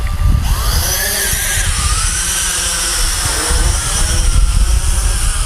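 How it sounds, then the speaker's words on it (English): A small FQ777 FQ02W foldable FPV quadcopter drone lifts off in a light breeze, its rotors giving a steady, loud buzzing whine that rises in pitch as it climbs, with wind rumble underneath and no talk. "It is kind of a noisy quadcopter, as you can hear."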